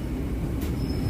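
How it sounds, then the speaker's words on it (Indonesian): Serayu Malam passenger train pulling into Ciawi station on track 1, a steady close rail rumble heard briefly without voices. "Serayu Malam masuknya jalur 1"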